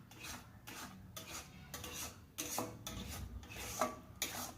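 Semolina halwa with ghee and date palm jaggery being stirred in a pan, repeated rasping scrapes of a spoon against the pan in an uneven rhythm, close and fairly quiet, no voices.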